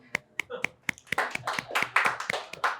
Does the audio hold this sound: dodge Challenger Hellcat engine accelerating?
no